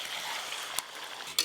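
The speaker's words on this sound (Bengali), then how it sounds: "এবার একটু টাইম দিয়ে মাংসটা ভালো করে কষে নেব।" Mutton sizzles in a pan as it is stirred and sautéed, a soft steady frying hiss with two brief scraping clicks of a utensil.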